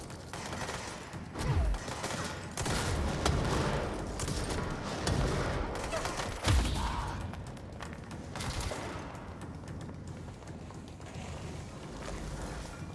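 Gunfire in the video game Control comes in bursts of shots with low thumps under a rushing ambient wash, moderately loud, with no talk over it.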